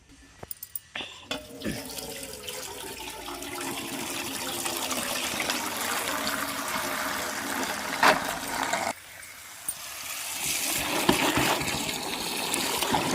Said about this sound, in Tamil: இதை வந்து நல்லா அலசிட்டு நம்ம வந்து நசுக்கி காய வச்சிடலாம்.